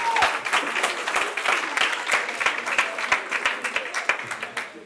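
Classmates applaud at a school spelling contest, a lively burst of many hands clapping at close range, uneven and slightly ragged, holding steady before thinning out near the end, with faint voices mixed in.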